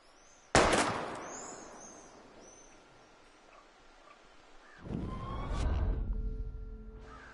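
A single sharp, loud gunshot from the game Life Is Strange, fired at bottles, rings out early, then fades; later a rougher burst of noise follows with faint tonal game sounds in the background.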